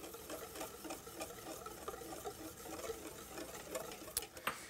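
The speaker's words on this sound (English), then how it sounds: "Just whisk that in." Sugar is whisked into melted chocolate in a bowl, giving quiet, quick rhythmic scraping and tapping strokes close by, steady and faint with a couple of sharper clinks near the end.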